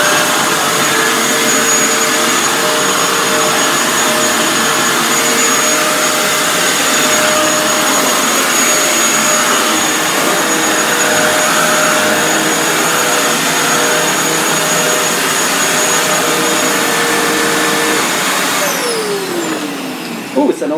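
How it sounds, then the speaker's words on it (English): A Vax VX3 upright vacuum cleaner runs indoors with a loud, steady whining roar held for about twenty seconds before winding down near the end, with a voice briefly heard over it. "I'll just do a bit of vacuuming."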